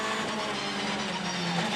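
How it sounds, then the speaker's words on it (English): A race car engine drones steadily as the car enters the pit lane, a sustained mid-level roar with no voices over it. "the engine is running as he comes in the pit lane below us"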